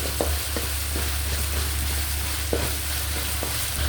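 Garlic paste sizzling in oil in a pan for fish curry, a steady close frying hiss with a few soft stirring knocks from a spoon.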